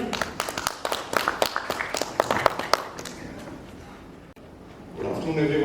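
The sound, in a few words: audience applause for a speaker coming on stage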